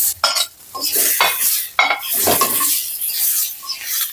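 Mashed cauliflower and potato being stirred together in a pan with a little oil after onion and garlic, a spoon scraping and clinking loudly against the metal in repeated strokes with a faint sizzle underneath.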